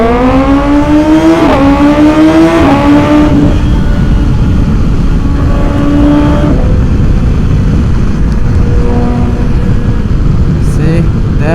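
BMW S1000XR M Package motorcycle with an Akrapovic titanium exhaust revving up and down nearby, loud rising engine tones with quick-shifter-style steps, under a constant roar and some talk.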